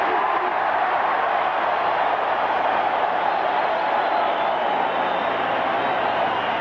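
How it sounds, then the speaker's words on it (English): A baseball stadium crowd at a 1988 NLCS Game 2 stands and cheers in a dense, unbroken roar that holds steady and loud throughout. "the crowd is on its feet again"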